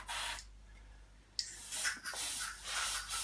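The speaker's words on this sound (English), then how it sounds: "I recommend using a silicone spray for this purpose." Several short hissing bursts of silicone spray lubricating the chassis joints of an Emmaljunga Mondial De Luxe stroller, close by, separated by brief pauses, with soft rubbing and clicking sounds between sprays.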